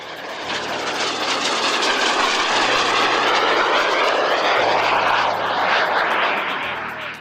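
Steady, loud drone of a small propeller aircraft engine close by, a continuous roar with a low hum shifting pitch slightly as it runs.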